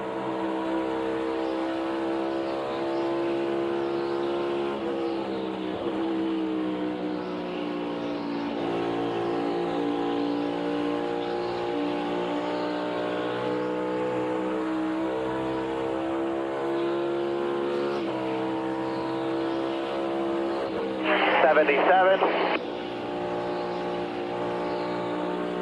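Onboard a NASCAR Cup Series car lapping Darlington, the engine drones steadily at high revs with rising and falling pitch through the corners, loud and continuous, with a brief burst of radio crackle near the end.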